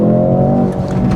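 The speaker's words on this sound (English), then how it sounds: "So I will now give it full throttle for the first time to see how it performs." A 2024 Mercedes-AMG C63S E Performance with its four-cylinder engine pulls at full throttle, a loud, steady, close engine drone.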